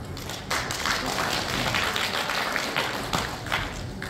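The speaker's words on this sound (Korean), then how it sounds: "여러분의 큰 박수로" Audience in a large national assembly auditorium breaking into applause to open a pumba performance, a dense, moderately loud patter of many hands clapping for several seconds.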